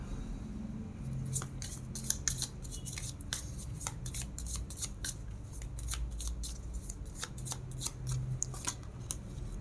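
Tarot cards being shuffled and laid out by hand, a quick run of crisp slaps and flicks repeating close up, with no one talking.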